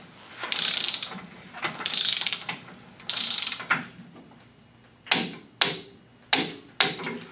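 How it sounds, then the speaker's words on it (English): A torque wrench ratchets in close, loud bursts while seating a wheel bearing on a 14 bolt axle during a disc brake conversion. Longer clicking runs at first give way to four short, sharp pulls. "we're going to do our final torque with a torque wrench to ensure that the bearing is all the way seated"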